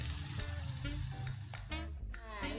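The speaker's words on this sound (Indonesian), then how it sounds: "biar agak mantep gitu goreng si sambelnya" Chili sambal with sliced shallots and garlic, no tomato, frying in oil in a pan, a steady close sizzle and crackle throughout with light stirring scrapes, no talking.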